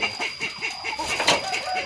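Young gamecocks cluck in a steady run of short, repeated calls close by, over a constant high-pitched background hum.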